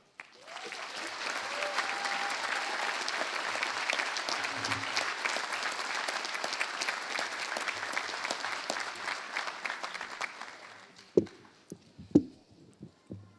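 A graduation ceremony audience at the Tufts School of Engineering breaks into sustained, dense applause for an incoming speaker, holding steady for about ten seconds before fading out to a few scattered final claps.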